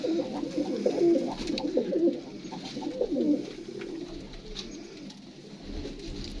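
Old domestic pigeons on a rooftop loft coo repeatedly in soft, low rolling calls, fairly close and steady, with no voices over them.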